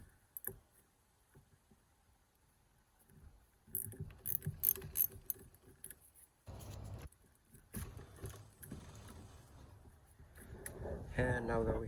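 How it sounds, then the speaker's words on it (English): A wrench or socket works an 8mm fastener on a 2008 Ford F250 6.8 battery terminal, making quiet, scattered clicks and metallic clatter that grow busier midway and end in a louder rattle. "to disconnect the battery, you need a 8mm wrench or socket"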